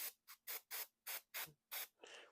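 Spray paint hisses from an aerosol can onto the backs of Warhammer Predator tank models in seven quick, close bursts of even length, the last one longer and softer.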